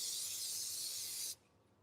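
A steady aerosol hiss of cooking spray runs for just over a second, close and fairly loud, then cuts off abruptly.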